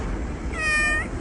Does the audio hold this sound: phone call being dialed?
no